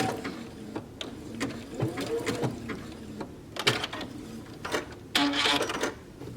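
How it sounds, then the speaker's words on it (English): Domestic sewing machine stitching knit fabric with a narrow zigzag seam, a close, steady mechanical whir in short runs that start and stop, with clicks between bursts and brief faint voice in the background. "Let the machine pull the fabric through"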